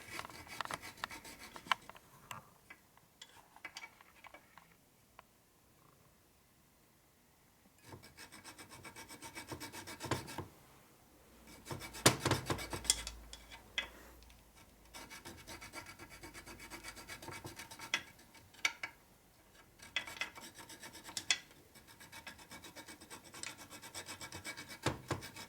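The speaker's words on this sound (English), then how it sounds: "you're filing the dowel pin a little bit" A hand file rasps in uneven bursts against a dowel pin during a 1961 Harley-Davidson Sportster XLCH transmission rebuild, close and fairly quiet, with a few short pauses between strokes.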